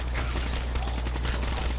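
Gunfire in the video game Zoombies, a dense and continuous rattle of rapid shots with no pauses, fairly quiet and heard alone.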